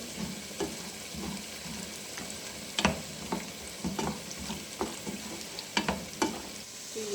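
Dry fruits frying in hot ghee for carrot halwa, a faint soft sizzle broken by scattered clicks and scrapes of stirring against the pan, with no talking.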